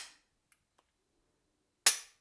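A Glock 17 9 mm pistol gives one sharp, close dry-fire trigger click on an empty chamber, preceded by faint handling ticks and near silence.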